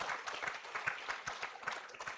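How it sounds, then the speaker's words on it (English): A conference audience at an international curriculum development event applauds the sponsors and partners. Faint, fairly distant clapping comes in uneven bursts for about two seconds, with no clear voices over it. "A very loud hand clap for them"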